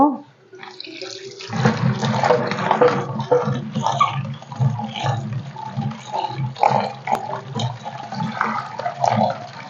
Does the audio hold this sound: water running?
yes